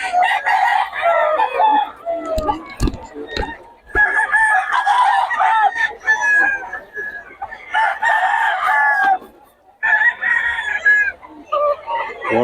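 Roosters and chickens at a poultry seller's stall in Bocaue crow loudly and repeatedly, long overlapping crows mixed with clucking, close and almost continuous with only brief pauses between calls.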